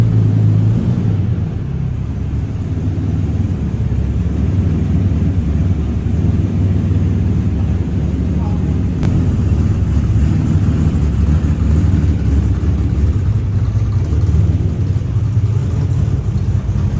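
A Pagani Zonda with a W12 engine in Nardo grey rumbles steadily at a concours d'elegance, a loud continuous low drone that holds for the whole stretch with no voices over it.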